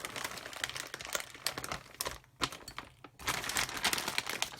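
Plastic parts for a Tamiya Land Rover Defender CC-01 kit are rummaged through in a bag, giving close, busy crinkling and rustling in bursts, with a brief lull in the middle.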